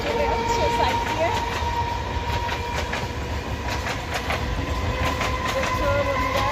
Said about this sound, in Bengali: এটা চলে যাচ্ছে সাইড দিয়ে